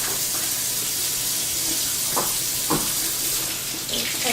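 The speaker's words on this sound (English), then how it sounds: "I always like to wash my chicken really well, very thorough, get all the slimes off of it. I usually wash mine in cold water" Cold tap water runs steadily into a sink while raw chicken is rinsed under it, a loud broadband splashing hiss with a few brief wet handling sounds, no talking.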